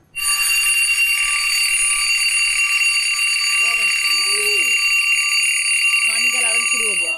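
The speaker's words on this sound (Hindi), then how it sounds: "खाने का अलार्म शुरू हो गया।" A dinner alarm rings steadily and loudly for about seven seconds, a sustained electronic tone held without a break while people talk briefly over it near the end.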